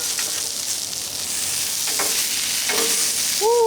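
Close, steady sizzle of food frying in a pan just after flipping, crackling pops through it and a short vocal exclamation at the very end.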